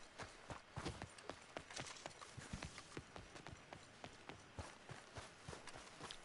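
Video game horse trotting along, hooves clip-clopping in a quick, steady rhythm of sharp, close knocks that continue the whole time over low ambient sound.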